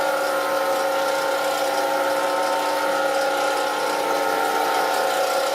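A wood lathe spins steadily while a pen is turned on it, giving a continuous close mechanical whir and hum with no talking.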